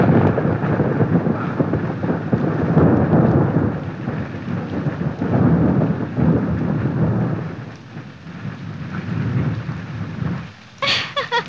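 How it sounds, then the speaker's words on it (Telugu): A thunderstorm with heavy rain and rolling thunder, a loud sustained roar that eases briefly before a sharp crack near the end. "ఏంటి వర్షంలో తడుస్తున్నావు?"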